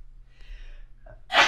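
A single sharp sneeze bursts out loudly at the very end, following a quiet breathy intake.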